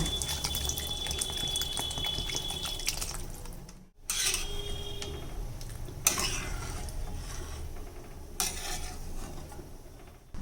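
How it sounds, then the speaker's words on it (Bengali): Water goes into a pan of spice-sautéed vegetables for a light Bengali fish curry with ginger and cumin paste, bringing splashing, stirring and clinking pot sounds broken by a few sharp pauses and scrapes. "এবার এর মধ্যে দিয়ে দিচ্ছি পরিমাণ মতো জল"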